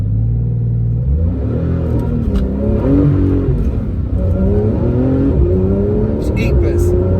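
A Porsche 911 GTS makes a launch control start, its engine revving loud and close, then pulling hard through rising and shifting gears, with a voice talking over the roar.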